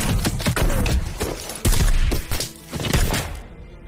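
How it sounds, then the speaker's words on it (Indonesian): Gunfire from a shootout against armed terrorists: loud, close bursts of rapid shots and heavy impacts crackle in uneven clusters, with brief lulls between volleys before dying off. "Dan baku tembak pun dimulai."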